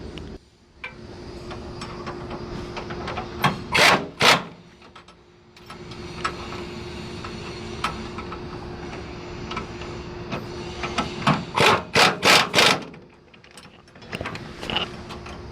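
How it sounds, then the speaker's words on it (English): Nuts being tightened with a ratchet on brake line brackets using stock hardware on a 2019 Chevy Silverado, bursts of rapid close clicking in two clusters over low workshop noise. "we're going to get the rest of our nuts, and we'll show you how to tighten this down"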